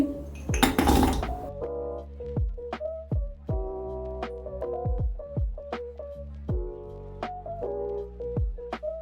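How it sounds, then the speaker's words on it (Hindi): A spoon repeatedly clinks and scrapes against a metal pan while dark chocolate is stirred into melting butter, ringing metallic taps in an irregular rhythm after a brief rustle. "अब जैसे ही ये हल्का सा मेल्ट हो जाएगा, इसमें मैं ये डार्क चॉकलेट मिक्स कर दूंगी।"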